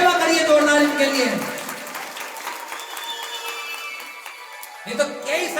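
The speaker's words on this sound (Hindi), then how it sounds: "एक बार ताली सेवा करिए जोरदार इनके लिए।" Audience at a Bhagwat katha in Niranjanpur bursts into loud applause that fades over a couple of seconds, with a voice talking over and after the clapping.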